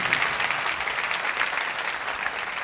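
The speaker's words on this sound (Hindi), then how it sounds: "आओ ऐसे खुदा के लिए जोरदार तालियां बजाएं" A congregation at a live church service claps loudly in praise of God, a thick, unbroken burst of applause from many hands, close and evenly sustained from start to finish.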